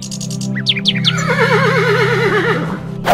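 A voice mimics a horse's whinny, a shrill rising call that breaks into a long wavering, quivering neigh, ending in a short burst of noise.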